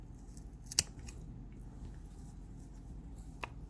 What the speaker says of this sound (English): What we're going to do is we're going to cut it just a tad below the surface.